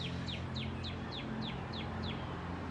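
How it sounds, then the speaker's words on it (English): Small birds chirp outdoors in a quick series of about seven short, evenly spaced high tweets over a low steady hum, moderately near and fairly faint. "Hear the birds? They like to chat. Chatty little things."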